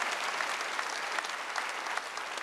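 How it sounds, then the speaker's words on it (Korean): A congregation at a Korean church's Wednesday worship service breaks into steady, dense applause that fills the room evenly for a couple of seconds, with no voices over it. "박수 한번 주세요."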